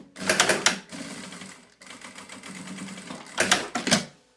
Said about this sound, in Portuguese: vou fechar aqui essa costura que ficou aberta pra gente poder passar o elástico